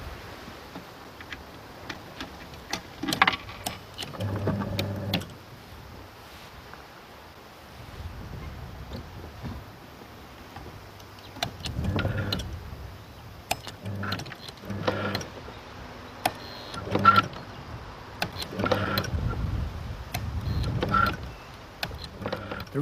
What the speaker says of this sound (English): The relays control the motor.